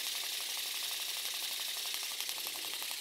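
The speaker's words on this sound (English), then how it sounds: "his wings are really flapping fast. You can see the mechanism there that makes them flap." A Good Dinosaur Thunderclap toy launcher's wing-flapping mechanism runs nearby, a rapid, even mechanical ratcheting buzz that continues steadily for the whole stretch.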